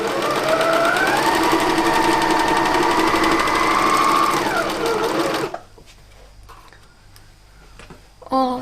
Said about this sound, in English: making sure it's not twisted, and then just sewing this.